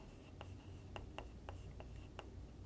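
Chalk or marker writing on a board during a lecture on property registration law: a series of short, quiet strokes and taps at an irregular rhythm, about ten distinct marks, over faint room noise.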